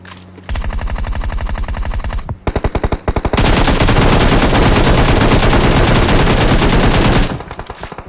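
AKM rifle in PUBG Mobile fires long automatic bursts, loud and close: a rapid rhythmic rattle, a short choppy break, then a dense sustained stream of shots before it cuts off.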